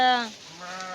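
A single short, wavering sheep bleat from a flock in a Konkan forest, close and clear.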